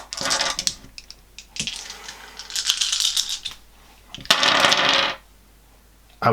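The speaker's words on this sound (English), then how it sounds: "roll once more, now with one fewer die, to make this number 8" Several dice are rolled for a board game, giving bursts of hard clattering and rattling on a table, with a few short bouts of tumbling and then a final louder rattle before it settles.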